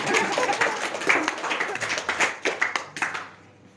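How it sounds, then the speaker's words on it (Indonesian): Participants at a hypnosis training session clap by hand, an uneven patter of individual claps from a modest group that thins out and stops near the end. "Tepuk tangan dulu"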